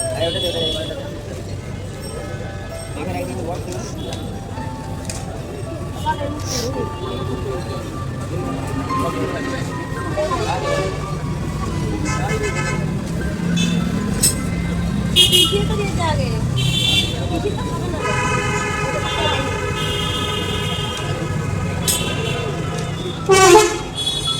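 An auto-rickshaw rides through road traffic in Bolpur with a steady motor rumble beneath it. Repeated car and bus horns toot near and far, and people talk over the noise throughout.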